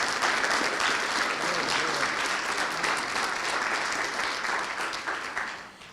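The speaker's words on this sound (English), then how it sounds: "And can we please have a round of applause for all of the students who are brave enough to do this?" Sustained applause from an audience at a university Three-Minute Thesis competition, dense steady clapping filling the hall for about six seconds before tapering slightly at the end, with no talk over it.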